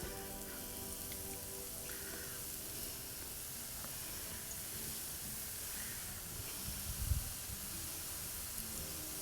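Funnel cake batter frying in hot oil on a Blackstone griddle, a steady soft sizzle and hiss throughout with faint crackles, fairly quiet and close.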